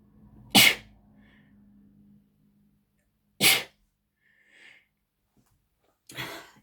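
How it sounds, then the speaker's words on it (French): Three sharp sneezes from one person, loud and close, spaced a few seconds apart with quiet breathing in between. "Excusez-moi, je vais éternuer."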